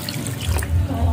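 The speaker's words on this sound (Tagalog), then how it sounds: "Lagyan natin ng kunting tubig." A little water is poured into a pan of pechay cooking with canned sardines, making a brief close splashing gush that lasts about a second.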